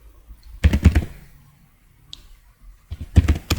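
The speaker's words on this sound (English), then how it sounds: "So here I need to type rename" Two close, fairly loud bursts of computer keyboard typing, separated by a quiet pause with a single faint click, as a SQL rename command is entered.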